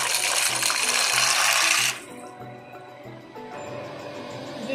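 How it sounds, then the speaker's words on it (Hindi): Macaroni goes into a pot of boiling water with a loud rushing, splashing burst lasting about two seconds, then settles into quieter steady bubbling on the stove. "अब इसके अंदर मैक्रोनी डाल देते हैं।"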